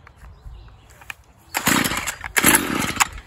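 Small lawn mower engine pull-started outdoors: a few quiet rope tugs, then two loud sputtering bursts as it nearly catches and coughs, close by.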